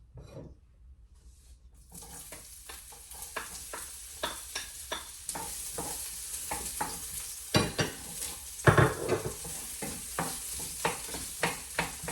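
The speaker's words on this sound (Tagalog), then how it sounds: "Inis ako ng sibuyas at bawang." Onion and garlic sauté in a pan for Filipino-style spaghetti. A steady sizzle starts after a brief quiet moment, and repeated close stirring scrapes and clacks of a utensil against the pan run through it.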